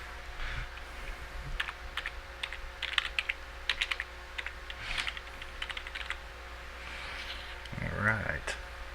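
Rapid keystrokes click on a computer keyboard in short irregular bursts, close and fairly quiet, while someone talks over the typing.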